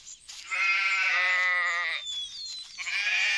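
A sheep from The Wolf video game lets out a long wavering bleat, pauses briefly, then bleats again, close and loud with no talking.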